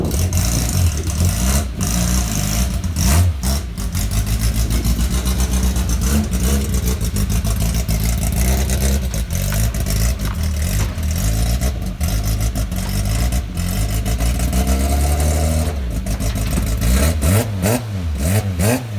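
Loud stock car engines roar and rev continuously at Cowdenbeath Racewall, several racing machines, including a stock rod, passing close with rising and falling pitch sweeps throughout.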